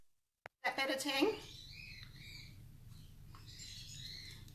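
Birds squawk and chirp outside in short bursts, faint and somewhat distant behind a steady hum of static, after a brief loud clatter at the start.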